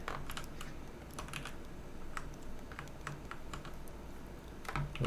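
Computer keyboard keys tapped in short bursts and scattered clicks while working in Blender 3D modeling software, close and clear, with no voices.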